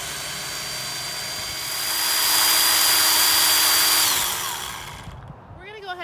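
Litheli U20 cordless electric pole saw running for tree trimming, a loud steady motor whine that swells, holds, then winds down and stops, with a voice speaking briefly at the end.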